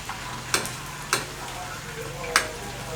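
Chicken wings deep-fry in oil over medium heat, a steady bubbling hiss close by, broken by three sharp clinks or pops spaced across it, with no talk.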